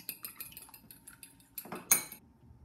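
A fork beats an egg in a bowl, making a quick run of light metallic taps and clinks close up, then a louder clatter before it settles.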